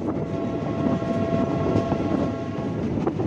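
A passenger train runs on the Baramulla–Banihal line in Kashmir, a loud, close, continuous rumble of wheels and carriages with a sustained tonal whine, heard without talk.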